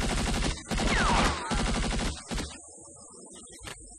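Video game gunfire in rapid bursts, loud and close, with repeated shots in quick rhythm, pauses, and a few scattered single shots trailing off.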